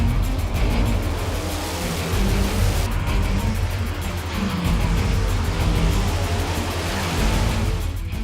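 Race car engines roar at a racetrack, a loud continuous rumbling drone with revving swells as cars pass, dense and close throughout with no speech.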